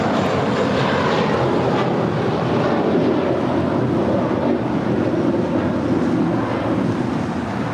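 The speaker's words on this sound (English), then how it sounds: "Let's make a statement on JetBlue 424 departing to New York." A JetBlue Airbus A321 roars down runway 25 left at Los Angeles International Airport on departure, a loud, steady broadband engine rumble with wind buffeting the microphone, heard alone.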